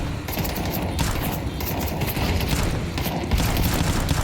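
Rapid gunfire in a Counter-Strike match at the IEM Major in Cologne: dense, continuous bursts of shots stack into a loud, busy fusillade with no gaps.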